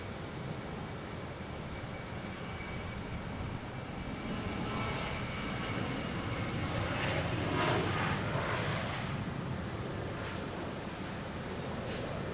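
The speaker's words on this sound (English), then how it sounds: "next taking off, we have an American Airlines, a Philly special, heading to Philadelphia" An American Airlines Boeing 737-800 on a flight to Philadelphia takes off at Boston Logan, its jet roar faint at first and then building into a stronger rushing rumble before easing slightly.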